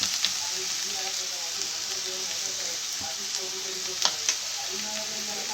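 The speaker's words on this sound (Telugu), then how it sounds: "రెండు వేగుతున్నాయి కొంచెం వేగినాక ఉప్పు వేసుకుంటామండి" Eggs sizzle steadily in a hot pan in an Andhra-style home kitchen, a continuous bright frying hiss with a few sharper crackles and spatters, close and fairly loud, no talking over it.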